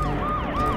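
A police siren in a Turkish drama series wails loudly and close, its pitch sweeping up and down in a continuous, rapid cycle.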